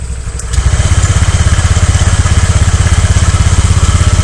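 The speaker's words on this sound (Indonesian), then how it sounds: "Gua akan coba hidupin dan kalian bisa lihat apakah ngebul atau enggak." A cold 125cc motorcycle engine catches after a brief start attempt and settles into a steady, loud idle with a rapid even low-pitched pulse close by.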